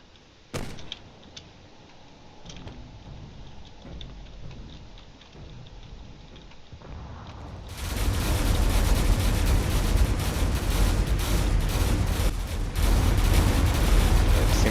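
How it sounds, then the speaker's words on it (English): Frigate cannons open fire in a space combat video game, a dense barrage of booming shots and crackling impacts that suddenly swells to a loud, sustained roar after a quieter stretch of ambient battle noise. "Pretty soon that frigate is also going to get in range and start firing its cannons."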